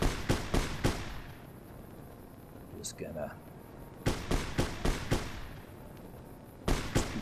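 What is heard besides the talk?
gunfire in the video game Fallout New Vegas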